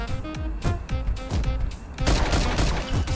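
Gunshots in the Milkman Karlson video game, a run of loud, close bursts spaced through the clip, with a denser, heavier stretch of firing in the second half.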